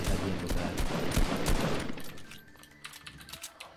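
Rapid bursts of gunfire in Fortnite Battle Royale, dense shots crowding the first two seconds before thinning to scattered clicks and faint sounds.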